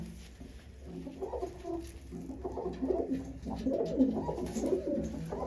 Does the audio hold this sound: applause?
no